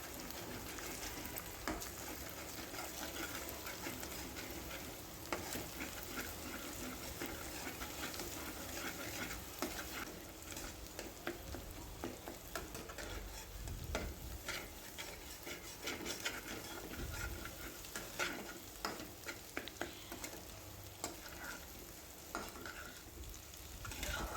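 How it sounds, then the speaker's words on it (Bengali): Beaten eggs are stirred and fried into a scramble for Bengali-style egg fried rice, with a continuous faint sizzle and scraping of a spatula against the pan throughout. "এবার ডিমগুলো ভালো করে নেড়েচেড়ে আমি ভেজে নিব। ভেজে গুঁড়ো গুঁড়ো করে নেব, যেটাকে আমরা এগ স্ক্র্যাম্বল বলি"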